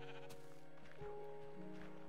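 Sheep bleating in the Minecraft video game, a few wavering bleats repeated over steady game background sounds, fairly quiet and with no talking.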